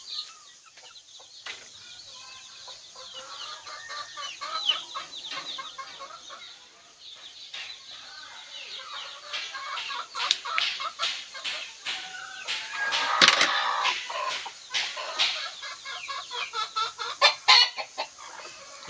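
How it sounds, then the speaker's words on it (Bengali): Hens on a free-range chicken farm cluck in soft, irregular bursts nearby, with several birds calling over one another and growing louder and busier toward the end. "এই মুরগিটা কিছু ডিম নিয়ে এখানে বসে আছে।"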